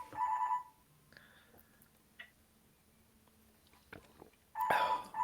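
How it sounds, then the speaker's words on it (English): A phone rings during an online podcast call, a bright electronic ring burst at the start and again near the end, with faint ticks and small household noises in the quiet gap between. "Your phone's going off."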